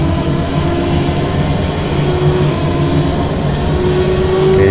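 Helicopter engine in a flight simulator game, a steady loud turbine drone that holds and rises slightly as the throttle is pushed up to full, filling the whole clip with no talk.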